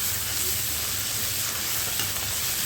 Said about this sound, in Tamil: இஞ்சி பூண்டு சேர்த்து நல்லா வதக்கிட்டு ஒரு சின்ன தக்காளி கட் பண்ணி போட்டு வதக்கிக்கோங்க.